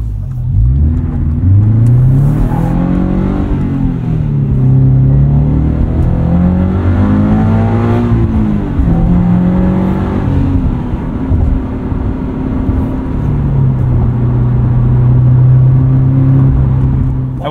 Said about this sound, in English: I will say this exhaust setup sounds perfect from the outside